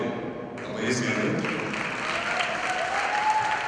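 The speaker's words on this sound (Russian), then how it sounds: "Аплодисменты." A studio audience applauds at a dance championship show, with steady, moderately distant clapping that swells slightly and holds for a few seconds.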